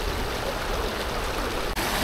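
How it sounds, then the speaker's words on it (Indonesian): A stream rushing downhill toward the Ciliwung river near a former tourist site in Puncak, a constant close, loud wash of flowing water with no break except one tiny dip. "ini sepertinya mengalir ke sungai Ciliwung nih"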